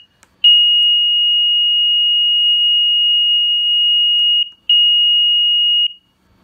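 SmartMonitor 2 apnea monitor running its self-test sounds a loud, steady high-pitched electronic alarm tone, held for about four seconds, then a brief break and a second shorter tone, with no voices.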